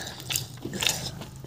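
Someone chews beef tripe (bhuri) in a few moist, crunchy bites, close and moderately loud, with no talking.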